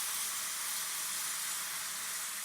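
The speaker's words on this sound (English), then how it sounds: "Or the humble frying of onions?" Onions frying in a pan, a steady dense sizzle and hiss that holds evenly throughout, fairly close and alone with no talk.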